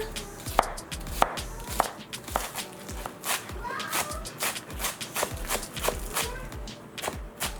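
Knife chopping green seasonings and peppers on a board, a steady series of sharp, close knocks and taps with uneven rhythm, some heavier strikes standing out.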